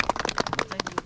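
Applause at a Lions Club of Pokhara Abhiyaan fellowship picnic, a crowd clapping in quick uneven bursts with sharp hand strikes, close and fairly loud, no talking over it.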